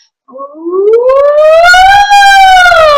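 During a vocal warm-up, a voice imitates a fire truck siren, a loud wailing tone that rises in pitch, holds, then falls slightly as if passing by.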